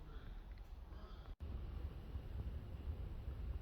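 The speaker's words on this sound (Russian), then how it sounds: "Вот, друзья мои, сильный ветер, откуда не ждали." Strong wind rumbles across the microphone outdoors on a roof by skylights, making a steady low roar with one brief dropout partway through.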